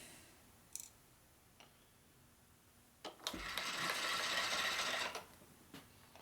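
A milling machine in a home workshop, used during a 1941 Harley-Davidson WL flathead stroker motor build, runs briefly for about two seconds, a fairly close, steady whirring burst with scattered small clicks before and after.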